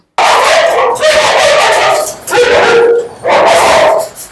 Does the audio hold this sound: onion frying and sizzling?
no